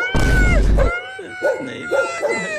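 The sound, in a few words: cartoon boy imitating a dog barking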